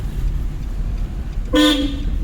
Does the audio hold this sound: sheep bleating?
no